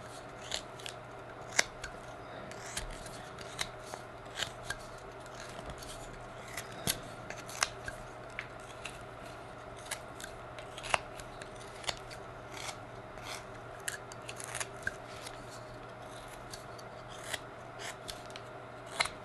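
A cheap $13 carving knife whittling wood, with crisp, repeated short cutting clicks and scrapes at an irregular rhythm, close and fairly quiet, with no talking.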